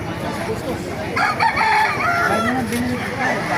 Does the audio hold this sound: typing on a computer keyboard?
no